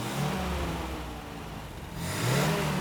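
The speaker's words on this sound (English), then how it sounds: "And instantly, the power of the engine doubles." The engine of a 1969 MGC Roadster revs up close by, a steady mid-pitched hum that swells louder near the end, heard alone.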